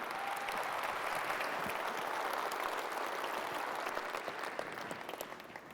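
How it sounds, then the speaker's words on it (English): Sustained audience applause fills a large hall at the E3 2005 PlayStation 3 presentation, steady and dense throughout before thinning slightly at the end. "Round of applause for Rick."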